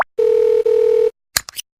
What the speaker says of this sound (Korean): 발걸음을 돌리며 답답한 마음에 남편에게 전화를 걸어봅니다.